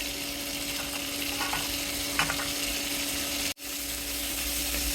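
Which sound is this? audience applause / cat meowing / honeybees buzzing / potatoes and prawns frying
potatoes and prawns frying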